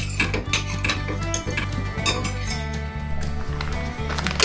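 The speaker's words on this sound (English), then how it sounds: "I'm actually gonna take all the beef and the onion and the garlic and everything out." Cooked beef, onion and garlic being scooped out of a pan, with metal utensils clinking and scraping against the cookware over a steady low hum, close and continuous with no speech.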